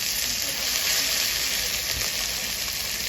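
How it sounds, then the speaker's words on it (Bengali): Spice masala frying in oil in a pan with Kashmiri chili, a dense steady sizzle close up and unbroken, with no voices over it. "দেখো মশলাটা আমার ভাজা হয়ে গেছে"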